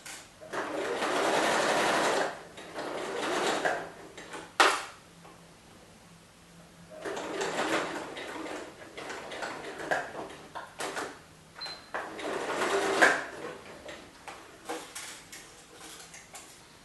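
A sewing machine stitches the sides of a rotary purse in several loud, close bursts of fast mechanical whirring, separated by quiet pauses with small clicks and handling sounds, and no talking.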